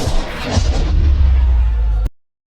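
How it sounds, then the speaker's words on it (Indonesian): A sniper rifle shot in an action film lands as a loud, heavy boom with a rumbling tail that cuts off abruptly after about two seconds. "Suara tembakan membuat kerumunan panik dan berhamburan."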